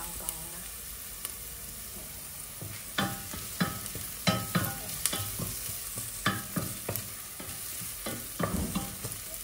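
Pork belly sizzles steadily in a frying pan while a utensil stirs it in short, irregular scraping strokes, close and clear with no talking.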